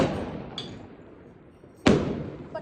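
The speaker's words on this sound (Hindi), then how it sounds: "पटाखे चल रहे हैं दिन में, देख रहे हो?" Firecrackers go off in daytime: a muffled distant pop, then one loud, sharp bang that rolls off into a fading echo over steady outdoor background noise.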